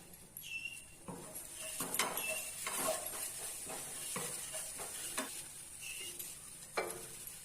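Dried prawns (javla) being stirred and fried in a pan, with a steady sizzle under repeated scraping stirs and light crackles, fairly close and moderately loud, no talk.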